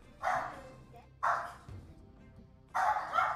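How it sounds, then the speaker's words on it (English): A pet dog barks in three loud, separate bursts at close range, with short pauses between them, set against quiet indoor background noise. "Oh, my dog is going crazy."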